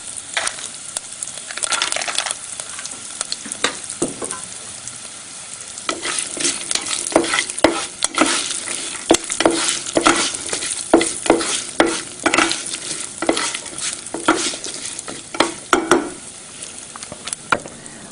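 Cumin seeds and cashew nuts sizzle and crackle steadily in a hot pan of oil with fried spices, a dense continuous frying hiss with scattered pops and stirring scrapes, close and with no voice.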